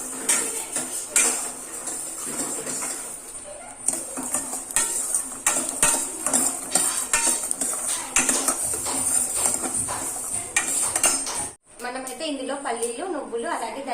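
Peanuts, sesame and coriander seeds fry in a pan for a brinjal masala curry, giving a steady dense crackle dotted with sharp clinks and scrapes of stirring, and a voice speaks over it.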